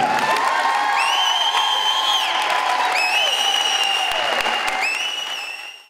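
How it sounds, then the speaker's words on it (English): Enthusiastic crowd applause for Coach Smallwood, dense and sustained, with high whistles and whoops rising above the clapping before it fades out at the end. "everyone give Coach one last round of applause."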